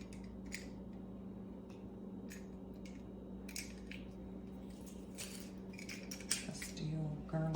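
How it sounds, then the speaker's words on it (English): Garlic cloves crushed in a handheld garlic press for beef stew, faint soft squishes and small metallic clicks scattered over quiet kitchen room tone. "Trusty old garlic press here."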